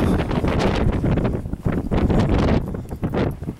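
Cold wind gusting outdoors, buffeting the microphone in loud rough surges and lulls, close and continuous with no clear voice.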